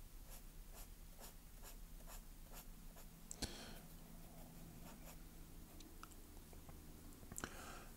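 A pencil scratches steadily across paper while drawing and shading stacks of coins, a quiet close-up series of rhythmic strokes with a couple of sharper taps.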